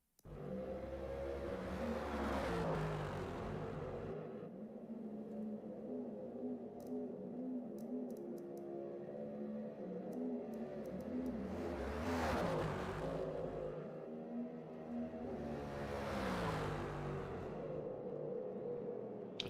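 A race car engine in Forza Motorsport revs up and down through gears in a sustained, close drone, with several sweeping accelerations and brief lifts between them.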